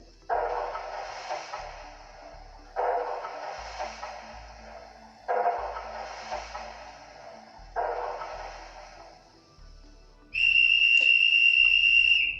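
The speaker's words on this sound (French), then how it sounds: "Et en touche 10, le sifflet du chef de gare." Four rhythmic chuffing bursts of an O-gauge model 140 C steam locomotive are followed by the station master's long, shrill, steady whistle blast, close and loud.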